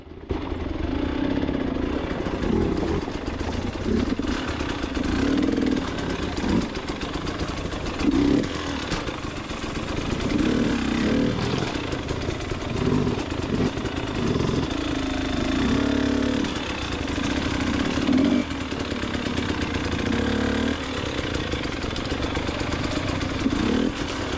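A KTM EXC 300 two-stroke enduro motorcycle ridden slowly over rough Carpathian mountain trails near Kosmach, its engine buzzing loud and close throughout with uneven throttle blips and clattering.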